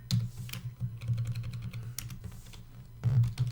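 Continuous typing on a computer keyboard, close and clear, with rapid irregular key clicks and a few louder bursts, with no voices.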